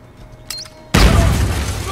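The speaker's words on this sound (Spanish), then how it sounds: "que nos da la explosión" A loud explosion in the video game Uncharted 4 bursts in suddenly and roars on with a dense rumbling wash after a quiet stretch with faint background sounds.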